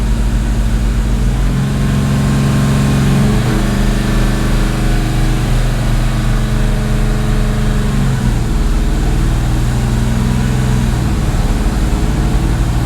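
A Hellcat-swapped Dodge Dakota drives along with a steady, loud engine drone and low rumble that shifts in pitch as it pulls through gear changes.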